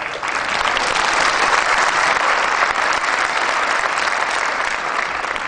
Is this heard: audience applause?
yes